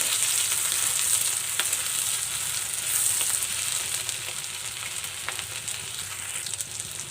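Sliced onion and green chillies sizzle steadily in a hot pan of oil for a mula bhaji, a dense, continuous frying hiss with occasional faint stirring clicks, close and without voices.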